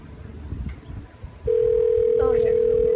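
A steady telephone dial tone switches on abruptly partway through and holds loud and unbroken, following a softer stretch with a brief voice-like blip.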